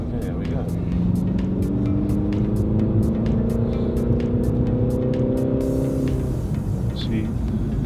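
Infiniti Q50 on a high-speed lap with traction control and driving aids on, its engine a steady loud drone heard from inside the car, pitch rising and shifting as it accelerates.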